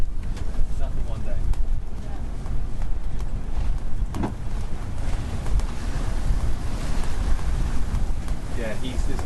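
Strong, steady wind roars across the microphone on a sailboat riding at anchor in about 25 knots, a loud continuous buffeting rush with a few brief knocks, lasting throughout.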